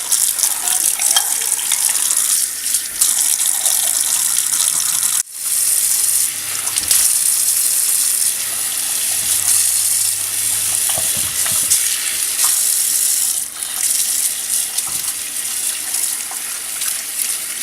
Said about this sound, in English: Anyway, give them a good rinse.